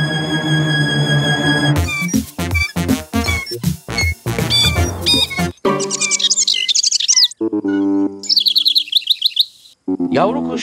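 Cartoon baby bird from Pocoyo chirping in quick, bright tweets, loud and close, broken by short gaps and springy synthetic effects.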